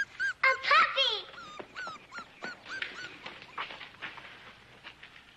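A puppy whimpers and yips in a run of high, thin cries, loudest at the start and fading into softer, scattered whines, with faint background sound beneath.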